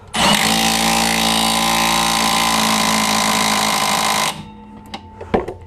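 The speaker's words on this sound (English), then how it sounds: "We're even taking the half-inch impact brushless motor to these strut bolts" A Milwaukee M18 Fuel brushless half-inch impact wrench hammers on strut bolts in one loud, continuous rattling burst of about four seconds, then stops and is followed by a few faint clicks and knocks.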